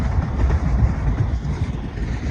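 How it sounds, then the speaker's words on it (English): A train passes along the West Highland Way, a steady low rumble with faint wind noise filling the clip, fairly close and with no talk over it. "There's the train."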